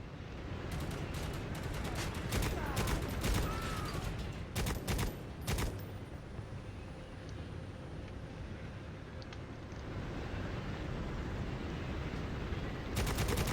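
Hip-fired gunfire in Necromunda: Hired Gun: several sharp bursts of rapid shots in the first half, a lull of ambient rumble, then another short burst at the end, moderately loud.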